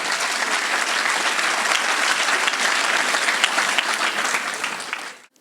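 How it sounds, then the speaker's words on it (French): An audience at a school festival applauds after the closing song, steady dense clapping with a few cheers throughout, fading out near the end. "Oui, applaudissez."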